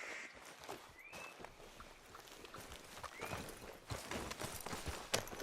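Horse hooves clip-clopping in the video game Red Dead Redemption 2, a faint steady rhythm of hoofbeats over outdoor ambience, with a couple of brief bird-like calls and no talk.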